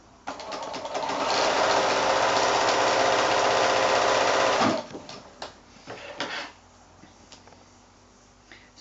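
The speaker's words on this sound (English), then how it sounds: "and sew it with the quarter inch seam." A sewing machine stitches a quarter inch seam on quilt squares made from 5-inch blocks, running as a steady loud whir for about four seconds, then stopping, followed by a few quieter handling clicks and rustles.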